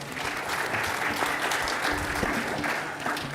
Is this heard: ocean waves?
no